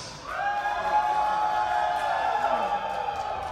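At a company annual dinner in a hall, an audience cheers and shouts in a sustained, somewhat distant wave of voices that fades slightly toward the end.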